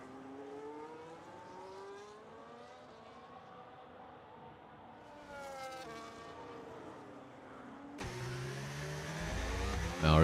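Formula 1 racing car engine in the F1 25 game at the Circuit of the Americas, USA, a steady rising and falling whine of revs with gear changes, loud and continuous, growing harsher and louder toward the end.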